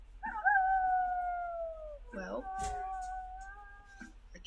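A wolf in the video game WolfQuest gives a drawn-out, wavering howl, then a second pitched howl joins a moment later, fairly close and clear, with a voice briefly speaking at the start.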